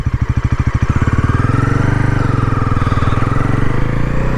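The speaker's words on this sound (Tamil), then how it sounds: "இது ஆன் பண்ணும்போது அதோட ஐடியல் சவுண்டு சூப்பராக இருக்குது" Loud, close Bajaj NS 400Z 2025 motorcycle idling, its steady thumping pulse starting slow and quickening slightly into an even rumble, no voices.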